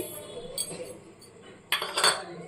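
Sugar goes into a pot of palm kheer with a handful of light metallic spoon clinks and taps against the vessel, quiet and close, with a brighter cluster of clinks near the end.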